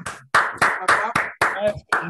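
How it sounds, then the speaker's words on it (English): A few people clap in a slow, uneven rhythm at a Zoom physics talk, about six distinct bursts of claps, close and fairly loud, with faint voices mixed in. "should we just clap for me? Clap."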